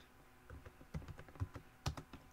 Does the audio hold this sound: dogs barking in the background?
no